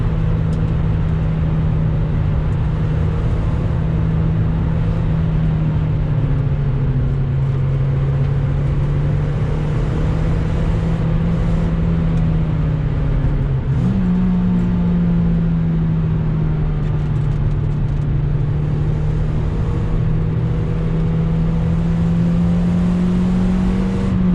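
A Toyota Yaris races around an icy Donington Park track, its engine droning loud and steady throughout, pitch holding level with one sharp shift midway.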